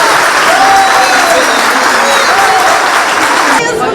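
A large audience applauds children at a Republic centenary celebration, a loud, continuous wash of clapping that fills the whole moment, with voices faintly underneath.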